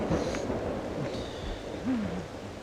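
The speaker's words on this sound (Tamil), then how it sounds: "மழை வேற எப்படி பெய்யுது" Heavy rain pours down steadily as a dense, even hiss that fills the whole scene, with a faint rumble and a few brief tonal sounds over it and no speech.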